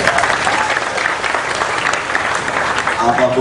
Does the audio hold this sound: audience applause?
yes